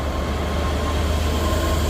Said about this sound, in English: departing out now is, I believe, is the 11:49 Scotrail service from Edinburgh Waverley to Glasgow Queen